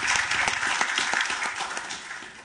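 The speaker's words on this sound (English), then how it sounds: "You may clap." Audience clapping at an academic law symposium, a steady wash of many hands filling the room for a couple of seconds, close and fairly loud with no talk over it.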